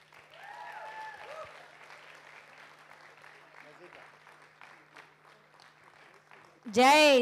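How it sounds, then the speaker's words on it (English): An audience at a flute recital gives soft, distant applause beneath scattered voices, followed by a sudden loud voice close to the microphone at the end. "Please give them a big round of applause."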